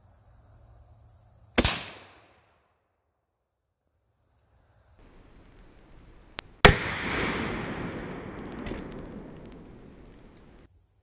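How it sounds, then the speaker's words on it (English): Schmidt Rubin K11 rifle fired at a spall liner, two sharp loud cracks several seconds apart, the second followed by a long fading rumble and rattle of debris. "Lastly, we'll be firing this Schmidt Rubin K11."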